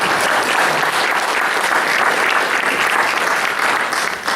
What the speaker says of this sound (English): Can you give him a round of applause please